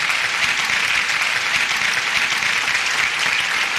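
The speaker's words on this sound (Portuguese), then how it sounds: "Cadê os aplausos, o Raimundo, né?" A studio audience on a television news program breaks into dense, continuous applause, loud and close throughout.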